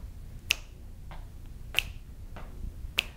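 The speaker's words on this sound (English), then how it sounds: "Just tapping that foot, you can snap." Finger snaps during a gentle dance exercise class, three crisp, fairly quiet snaps spaced evenly about a second apart, with softer taps in between.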